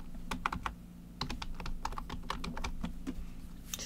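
Rapid keystrokes on a computer keyboard while entering text in a word processor during an ITQ Hangul practice exercise, a steady run of close, crisp clicks in uneven bursts over a low hum, with no voices.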